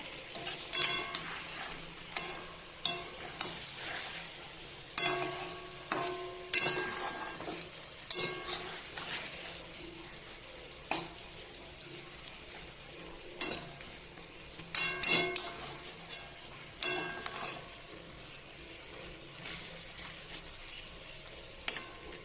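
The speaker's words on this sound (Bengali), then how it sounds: "এবার একটু নেড়ে চেড়ে দেবো।" A thick spice paste with no added water is stirred in a pan over sizzling heat. Repeated scraping and clacking strokes come in uneven bursts over a continuous frying hiss, close and fairly loud.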